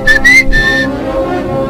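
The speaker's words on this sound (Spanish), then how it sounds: "los silbidos ya no se escucharon fuera de la casa" Eerie whistling in a retelling of the Silbón legend, three thin high whistled notes, the first two short and the third longer, then a low lingering tone, loud and close with no speech.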